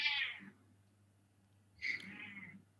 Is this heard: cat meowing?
yes